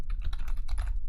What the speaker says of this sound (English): So type in glitch.